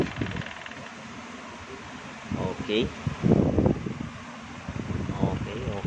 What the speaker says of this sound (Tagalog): Parang mas maingay electric pa namin kaysa sa hangin